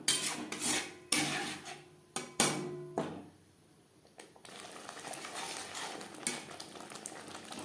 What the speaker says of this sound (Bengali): লো টু মিডিয়াম ফ্লেমে 3-4 মিনিট নাড়াচাড়া করে নেব।